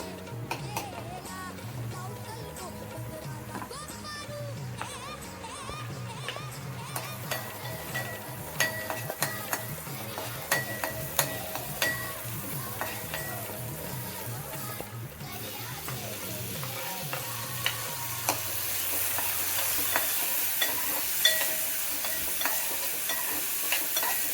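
Garlic and chillies frying in oil for a crab curry, a continuous sizzle with scraping stir strokes and occasional clinks over a low background hum, growing slightly louder toward the end.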